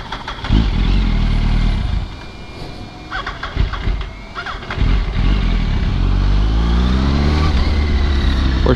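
Motorcycle ridden slowly through Miami streets, close engine idling and puttering, then revving and accelerating with rising pitch toward the end, no talk heard.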